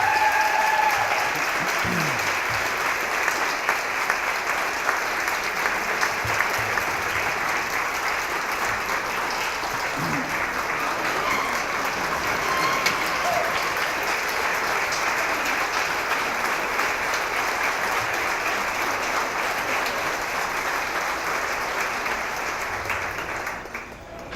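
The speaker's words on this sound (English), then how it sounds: "And we applaud her very much." Long, loud and steady applause from a large crowd at a city schools employee recognition celebration, honoring the director of schools, a continuous wash of clapping that tapers slightly at the close.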